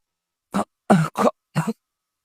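A man clears his throat in a party hall with four short, rough coughs, close and fairly loud, the second and third nearly run together, with no talking around them.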